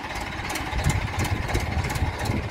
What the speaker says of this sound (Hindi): अर्जुन स्टार्ट हो गया, क्या शानदार आवाज है अर्जुन 555।